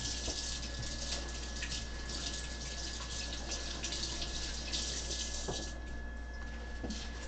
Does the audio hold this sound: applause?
no